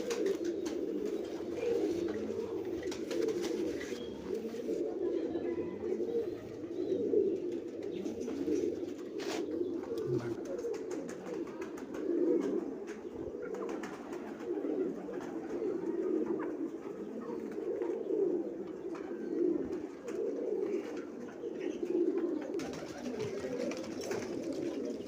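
Pigeons coo continuously and fairly softly, a dense overlapping murmur of low, rolling calls that holds steady throughout with no talk.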